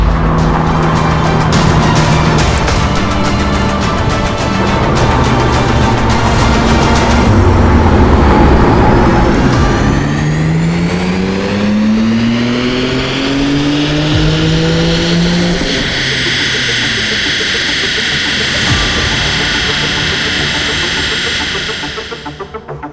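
BMW G82 M4 with an Akrapovic titanium slip-on exhaust, sound kit and carbon fiber tips, roaring loud and close through several rising revs and gear changes, with crackling overrun near the end.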